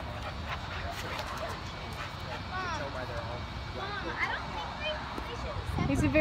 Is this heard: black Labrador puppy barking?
yes